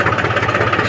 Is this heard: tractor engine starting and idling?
yes